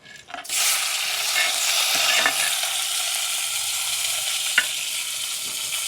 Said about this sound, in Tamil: இப்படி இந்த இருக்கிற கொஞ்சம் எண்ணெய்க்குள்ளே இந்த வெட்டி வச்சிருக்கிற நல்ல பழுத்த தக்காளி பழம் அதை போட்டுருவோம்